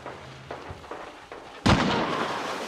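A single sharp, loud gunshot in a video game rings out with a decaying tail, following a few fainter pops and thuds.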